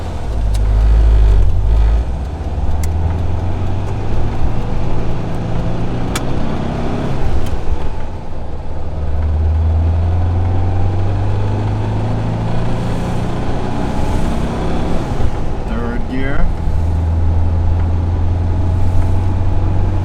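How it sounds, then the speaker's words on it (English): A 1978 VW Beetle convertible driving at speed, its air-cooled engine droning loudly with a steady low rumble, heavy wind roar over the open top and a brief surge of revving near the start. "I'm sorry if it's loud too, by the way, because of all the wind of the convertible"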